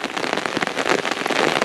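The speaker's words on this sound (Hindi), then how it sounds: "मैंने सोचा मैं आप लोगों को पहाड़ों की बारिश से मिलवा दूं ज़रा कि पहाड़ों में बारिश होती है तो कैसा लगता है" Steady, close rain patters densely on grass and surfaces in the mountains, a continuous hiss of drops with no talking.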